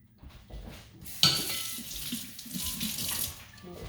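Tap water runs into a kitchen sink for a quick rinse, a steady splashing hiss that starts abruptly with a sharp burst and flows continuously for several seconds, close and moderately loud.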